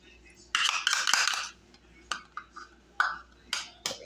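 Butternut squash pieces tumbling into a metal pot and being mashed around, with a burst of clattering scrapes followed by several sharp utensil knocks against the pot, close and moderately loud.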